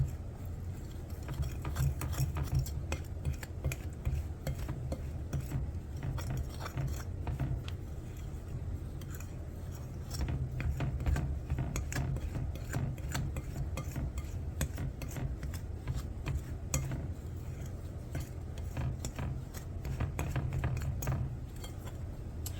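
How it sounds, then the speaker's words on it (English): A utensil stirs flour and seasoning together in a bowl for homemade KFC-style chicken coating, giving a steady run of soft scraping and clinking strokes close up, with no talk. "So now I'm going to stir this flour and seasoning together well"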